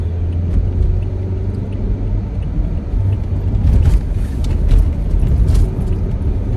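Car driving on the road in slow traffic, with a steady loud low rumble of engine and road noise that swells slightly with passing traffic, and no speech.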